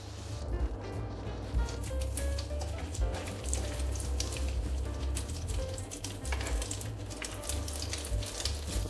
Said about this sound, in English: On the heated oil, we place the medallions and fry them evenly on both sides.